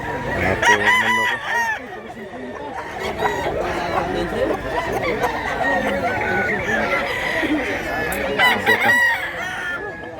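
Roosters crowing repeatedly amid a crowded poultry market setting with many birds, overlapping clucks and steady background chatter from people nearby.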